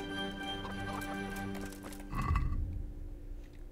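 Hooves clopping under a sustained musical backdrop in the video game Kingdom Come: Deliverance, then a horse's snort or whinny stands out near the end as the music drops away.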